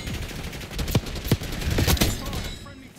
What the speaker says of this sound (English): Popping shots at me though